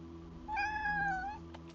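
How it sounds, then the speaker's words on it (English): A domestic cat gives a single drawn-out, rising and falling meow, clear and close, over a steady low background hum. "She's just got such a cute little meow."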